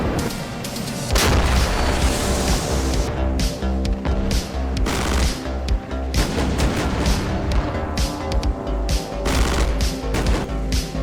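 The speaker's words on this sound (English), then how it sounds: "Now I begin to come under rocket fire, and this continues for like 15-20 minutes" Soviet artillery and rocket fire in the wargame Armored Brigade II, a dense, continuous barrage of booming impacts and crackling volleys layered over a low rumbling drone, loud and relentless.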